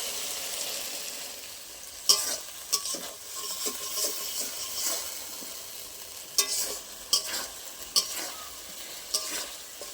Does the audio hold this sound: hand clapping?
no